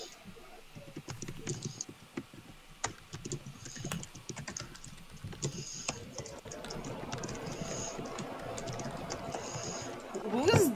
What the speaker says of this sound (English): He's doing that keyboard mashing too